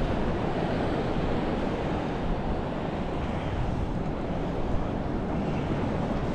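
Continuous gusting wind at a beach buffets the microphone, a rough low roar with a surf-like wash underneath, steady and loud, no voices.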